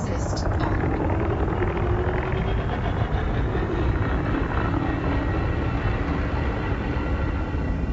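A Krait II spaceship in Elite Dangerous thrusts in full reverse and boosts, a dense roaring engine drone with shifting whooshing tones that stays loud and continuous throughout.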